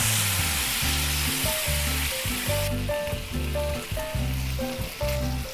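Potatoes sizzle loudly in a cast iron skillet, a dense continuous frying hiss close up, with rhythmic background music underneath.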